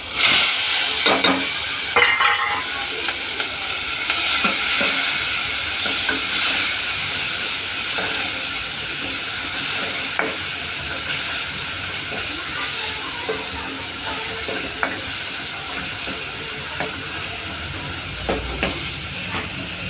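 Ginger-garlic paste sizzles in a hot pan alongside garlic and curry leaves for a toor dal, a steady hissing fry broken by the scrape and knock of a spoon stirring, close and continuous.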